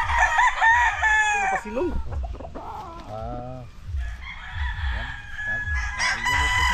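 A gamefowl rooster of the sweater bloodline crows loudly and close, with clucking and a brief spoken word from a man mixed in.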